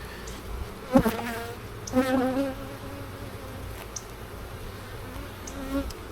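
Honeybees buzzing around an open hive during an inspection, a faint steady drone with a few louder passes as bees fly close, and no talk.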